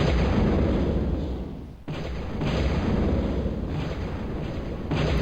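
Many weapons fire together in the Total Annihilation real-time strategy game, producing a steady, dense roar of blasts and impacts that dips briefly before surging back, with no talking.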